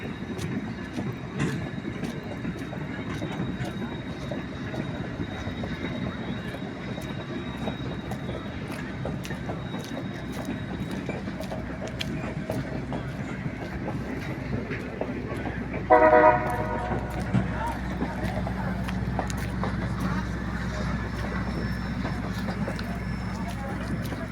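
A train in Skagway, Alaska, rumbling past at a moderate distance as a steady low rolling noise, with a brief horn-like toot near the middle and a person speaking over it.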